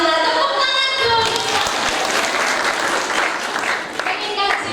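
Audience applause at an Islamic sermon event in Pemalang, a sustained wash of clapping that swells after the first second, with a voice talking over it near the start and end.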